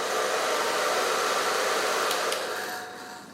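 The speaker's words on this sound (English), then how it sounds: "I'm going to speed it up here just with a hairdryer" A hair dryer blows steadily at close range, a continuous broad rushing whoosh that keeps an even level, then tapers off slightly toward the end, with no voices.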